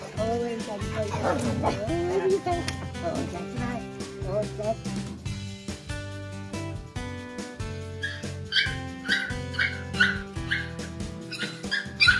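Dogs bark, yip and whimper excitedly as they greet their owner on his return after time apart, in repeated bursts of varying loudness mixed with music and a voice throughout.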